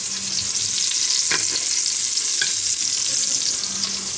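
Pork chops sear in a pan with a steady, close, loud sizzle throughout, broken by a couple of faint clinks.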